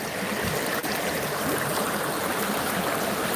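Steady rush of moving water, McMillian Creek flowing continuously and fairly close, broad and even with no pauses.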